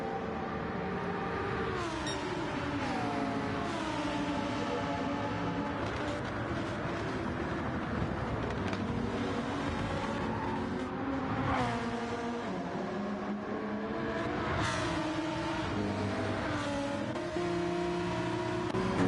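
GT race cars, including a fast Lamborghini and a McLaren, in a racing video game at Road Atlanta, engines roaring at speed with rising and falling pitch through gear changes, a dense continuous blend of several cars.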